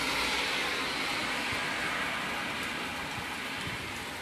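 Rain falls steadily inside a house, a continuous broadband hiss and patter that holds at an even, fairly loud level from start to finish with no voices.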